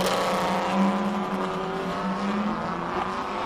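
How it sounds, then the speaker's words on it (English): A BMW race car at a hill climb roars past with a loud, steady engine drone and a sustained high-revving tone that holds strongly throughout, with no voices over it. "Now here is one of the more, it's the noisiest car out there. This thing is scary."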